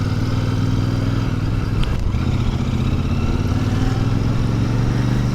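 Royal Enfield Super Meteor 650 motorcycle ridden slowly through Amsterdam streets along the canals, its engine a steady, close, continuous low rumble with no talk over it.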